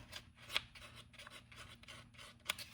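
A jeweler's file is drawn over earring ear wires on its smooth side, making quiet rhythmic rasping strokes with a couple of sharper metallic scrapes, close and soft, with no voices.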